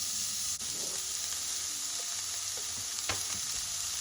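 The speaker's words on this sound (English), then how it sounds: "we're just gonna put in the onions right now" Onions just added to a warmed pan for green bean casserole, hissing in a faint, steady sizzle with a couple of soft stirring knocks.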